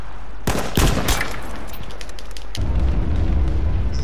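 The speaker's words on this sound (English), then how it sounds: "He's shooting someone else now." Gunfire in the battle royale game H1Z1 comes as a loud, close burst of rapid shots that rings out and fades, followed by a steady low rumble. No one talks.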